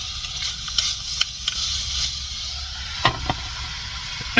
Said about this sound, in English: Even though my pan is crowded, I'm really just trying to get a good sear on everything.